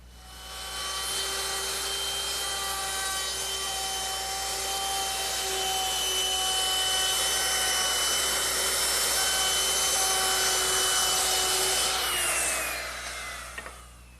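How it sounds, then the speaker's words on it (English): A router fitted with a 1/4-inch round-over bit shapes the top edges of wooden Adirondack chair seat slats, a loud, sustained high whine that swells in and holds steady before spinning down with faint clicks. "I'm rounding over the top edges of the seat slats using the same 1/4-inch rounding over bit"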